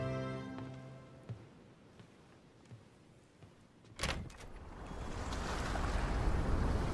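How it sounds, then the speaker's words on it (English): A video game ocean scene in Pokemon Fire Red/Leaf Green: soft tones and faint taps give way to a loud whoosh, then a steadily swelling rush of surf and wind. "That's a lot of waves."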